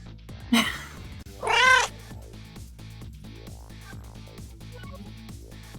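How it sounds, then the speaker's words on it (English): Two loud, close cat meows in quick succession, the second longer and drawn out, then quieter household background with no talking. "My Italian cat."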